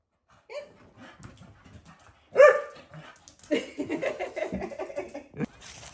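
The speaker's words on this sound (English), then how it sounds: "Does anyone else's dog do this after being washed?" A freshly washed dog barks, yips and pants excitedly at home, a series of loud, close, uneven barks and whimpers that grows more agitated toward the end.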